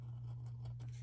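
Scissors snip through planner paper in a short quiet burst of a few crisp cuts over a steady low hum, with no talking.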